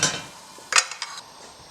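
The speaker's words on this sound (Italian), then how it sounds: "dopodiché andare a mettere il coperchio" A metal lid set onto a pot of scored chestnuts in a home kitchen: a brief cluster of clinking, rattling clatters near the middle, close and fairly quiet, followed by a couple of lighter taps.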